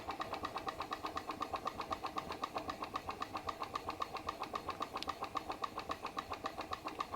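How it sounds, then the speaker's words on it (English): A glass PMR Research Stirling engine runs slowly, driving a Baker fan, giving a steady, even rhythm of soft mechanical ticks that repeat several times a second at low volume. "Now I've really never seen a Stirling engine going that slow and working."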